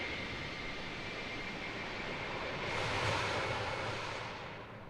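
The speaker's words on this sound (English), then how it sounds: "This little flyby." A KLM Airbus A330 passes in a flyby inside a flight simulator game, a steady broadband jet roar that swells to a peak midway and then fades slightly as it moves off.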